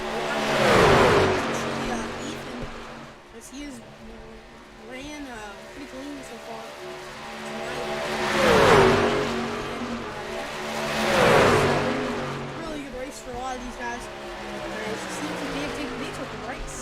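Race cars roar past on a track in repeated loud swells at roughly one, nine and eleven seconds, engines rising and fading between passes, with a commentator talking over the steady engine drone.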